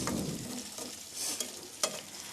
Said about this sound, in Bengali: মাছগুলো দিয়ে আরও 2 থেকে 3 মিনিট কষিয়ে নিতে হবে।